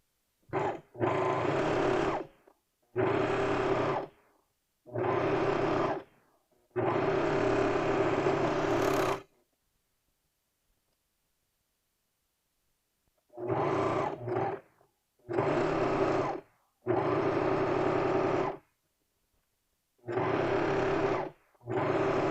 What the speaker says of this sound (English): I like to take the drawer off of my sewing machine so that I can sew around this arm.